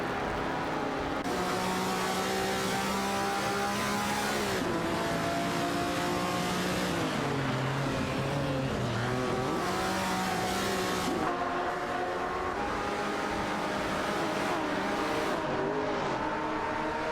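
Race car engines drone steadily in an AI racing simulation, several motors layered together with pitch rising and falling through gear changes and passes, continuous and loud with no voices.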